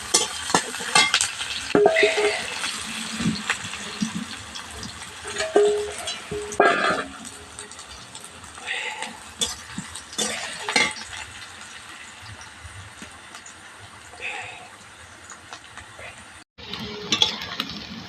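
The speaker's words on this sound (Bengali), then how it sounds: "আমার 5 ফোড়ন আর পেঁয়াজ ভালোভাবে ভাজা হয়ে গেছে" A large chopped onion and five-spice seeds fry in oil while being stirred in a pan: a soft sizzle under repeated scraping and knocking strokes of the spoon, some louder clinks against the metal.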